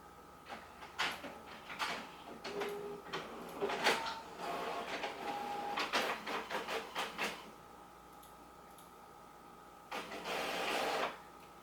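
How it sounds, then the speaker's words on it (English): A small office printer runs off a packing slip for a shipping order, with a series of short mechanical whirs and clicks, some rapid stuttering feeds, a quiet pause, then a final burst, all fairly faint and without talk. "going to print our packaging slip first"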